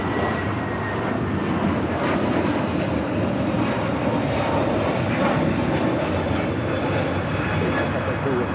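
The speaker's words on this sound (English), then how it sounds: "That is United Airlines 311 taking off to Denver, Colorado on the A321neo." A United Airlines Airbus A321neo roars steadily through its takeoff run at Los Angeles airport, a continuous broadband jet rumble heard from a distance, with a faint voice talking over it.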